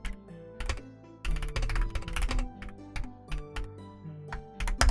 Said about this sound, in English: Let me go ahead and I'll type this in.